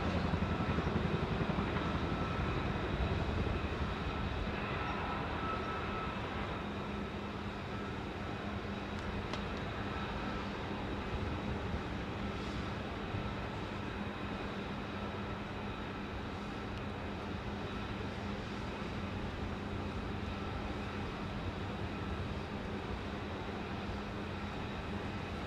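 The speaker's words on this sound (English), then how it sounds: "Can hear that F35 round the corner there, man." F-35B fighter jet at the Farnborough airshow, heard as a loud, continuous broadband engine roar from out of sight that holds steady and slowly eases over about twenty-five seconds.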